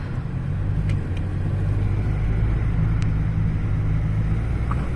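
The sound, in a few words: road traffic in France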